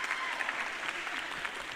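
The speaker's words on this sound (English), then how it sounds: "We give her the round of applause, please." Audience applause at a Mel Robbins stage talk on self-doubt, a dense, even patter of many hands clapping at moderate distance, fairly faint and steady.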